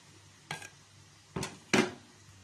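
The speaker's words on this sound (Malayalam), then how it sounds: "ഇനി ഈ സവാള നന്നായി ഒന്ന് വാടി വരണം, നന്നായി ഒന്ന് വഴറ്റി കൊടുക്കുക." Sliced onions stirred in a pan for a Kerala-style chicken curry, three short scraping clinks of a spoon against the pan spaced apart over a quiet background.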